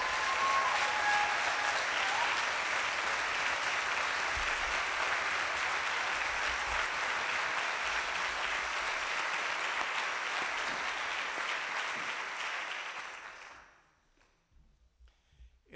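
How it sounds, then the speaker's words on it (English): Sustained audience applause for the Abundant Life Choir at a Martin Luther King Jr. celebration, dense steady clapping filling the hall for about thirteen seconds before fading out abruptly into near silence. "Once again, another round of applause."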